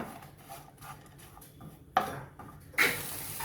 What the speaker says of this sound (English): Now keep sauteing it until they turn translucent.